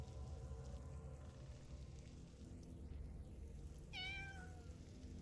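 A single short, high cat meow in the video game The Floor Above rings out near the end over a quiet, murky background hum.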